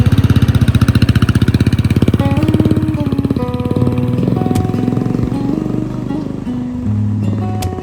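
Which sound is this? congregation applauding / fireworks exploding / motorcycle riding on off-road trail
motorcycle riding on off-road trail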